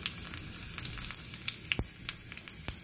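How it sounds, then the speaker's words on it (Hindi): Cumin seeds sizzle and pop in hot oil, sharp crackles scattered irregularly over a steady frying hiss, close and clear. "तेल यहाँ पे मैंने गरम कर लिया है अब इसमें हम डालेंगे एक टीस्पून जीरा"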